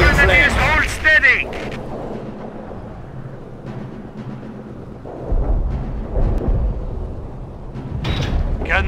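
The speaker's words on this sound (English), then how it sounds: "Incendiary attack is on its way. The whole area will be in flames." An incendiary artillery attack in the Company of Heroes war game, with deep rumbling booms and low blasts swelling and fading under radio-style voice lines at the start and end.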